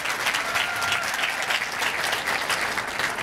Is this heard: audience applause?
yes